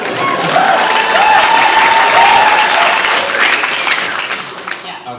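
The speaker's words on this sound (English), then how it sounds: "But you can clap for me anytime." Audience applause fills a talk-show style interview, a dense steady wash of many hands clapping with some cheering mixed in, loud and close throughout and tapering slightly at the end.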